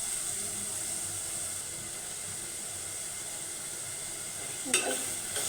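Taro and Malabar spinach stems are stirred into frying spices in a pan for a hilsa curry, giving a steady close sizzle with a brief scraping stir near the end.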